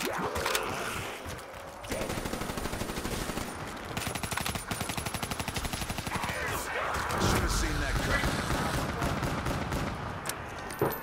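Rapid automatic gunfire from a Black Ops 3 zombies boss fight in the video game, dense bursts running nearly the whole time with occasional louder blasts, while a player talks over it.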